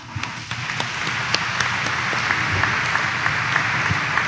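Congregation applauding during a Thursday Mass at Quiapo Church, dense sustained clapping from a large crowd that builds quickly after the start and holds steady throughout.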